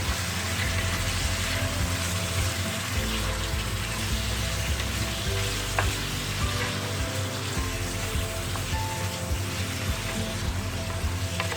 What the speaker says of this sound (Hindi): अब इसमें डालें 4 अदद टमाटर स्लाइस में कटिंग किए हुए। इसको अच्छी तरह से भूनें।